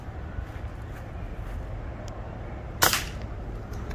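A single sharp crack from a PCP air rifle fired at an iguana ice sculpture, short and fairly near, standing out against a quiet steady outdoor background.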